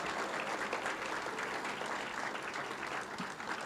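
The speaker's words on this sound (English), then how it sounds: "Let's give everybody a round of applause." Audience applause fills a campus evening event, a steady dense wash of many hands clapping at an even level throughout.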